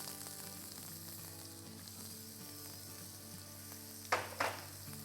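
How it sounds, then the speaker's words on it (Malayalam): Mustard seeds, shallots and curry leaves temper in hot oil with a constant bright sizzle, joined near the end by a couple of short, louder crackling spurts. "നമുക്കൊരല്പം കടുക് ഒന്ന് താളിക്കാം"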